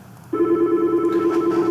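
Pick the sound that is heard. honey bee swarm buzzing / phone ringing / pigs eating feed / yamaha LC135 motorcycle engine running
phone ringing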